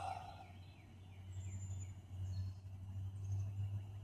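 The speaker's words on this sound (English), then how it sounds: "A lot of birds out this morning." Birds call around a campsite in the morning, with a turkey-like gobbling sound rising against a low steady hum and scattered faint chirps, heard at moderate distance and fairly quiet overall.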